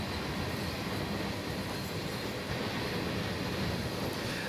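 A coal train reverses slowly toward a mine loading facility in Train Sim World, a steady dense rumble of rail wheels and rolling wagons with faint squeals, continuous and moderately loud with no voices.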